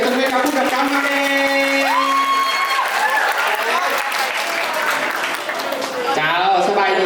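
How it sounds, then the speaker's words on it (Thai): An audience at a stage play, Look Like Magic, applauds its director with sustained, lively clapping and a few whoops, while a voice speaks over the applause throughout. "ผู้กำกับขอเสียงปรบมือกับผู้กำกับมาเลย"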